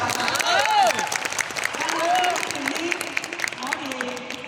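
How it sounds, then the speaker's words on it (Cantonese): An audience claps at a gathering, a continuous patter of applause mixed with crowd noise and a few raised voices calling out over it. "俾啲掌聲佢好唔好啊？"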